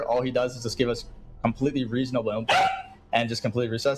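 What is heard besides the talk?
dog barking in the background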